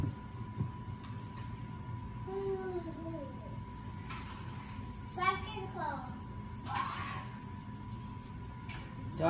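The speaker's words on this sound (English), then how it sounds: "Y'all know that Sage in the background playing with her toys" A child plays with toys in the background of a home kitchen, with faint clacks and a young voice chattering on and off over a steady low hum, fairly quiet and distant.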